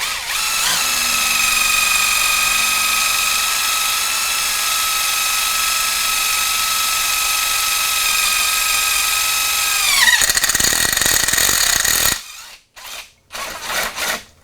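A DEWALT drill runs steadily in forward, boring a 5 mm hole with a high, even motor whine. It winds down after about ten seconds, followed by a few short handling clicks and bursts.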